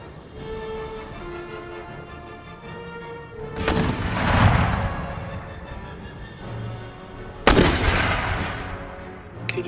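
Mortar and artillery fire in an Empire: Total War battle set in India, Mysore against the Marathas: two heavy, booming blasts several seconds apart, each with a rolling tail, over a steady musical battlefield ambience.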